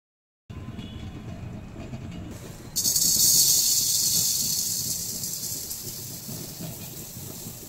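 A rice cooker cooking rice, with potato and bitter gourd boiling inside, lets out a loud sustained steam hiss that starts abruptly after a short silence, swells, then slowly eases under a low rumbling bubble.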